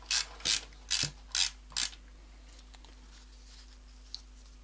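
Take-up spool mechanism of a TLR camera clicking during film loading: five crisp, evenly spaced ratchet clicks close up, followed by quiet with one faint tick.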